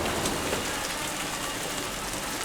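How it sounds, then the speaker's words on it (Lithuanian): Heavy rain pouring down outdoors, a dense, unbroken roar of falling water that stays loud and even throughout, with no voices over it. "Bet labai smarkiai lyja"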